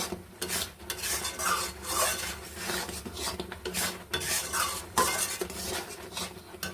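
Milk being stirred and reduced in a pan for mango sandesh, a spoon rasping and scraping continuously against the pan's base over a soft bubbling hiss, close and moderately loud with no talking.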